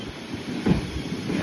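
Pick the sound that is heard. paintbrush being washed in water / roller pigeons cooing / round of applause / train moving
train moving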